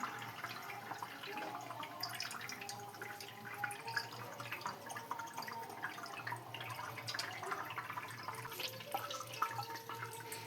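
Quiet trickling and dripping of water, faint and intermittent, as water drains from homemade paneer in a sieve while a spoon is turned through it, in a calm indoor setting.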